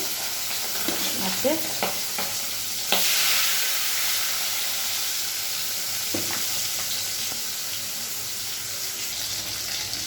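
Fish frying in hot oil in a pan, a continuous hissing sizzle with a few clinks and scrapes early on, steady and close.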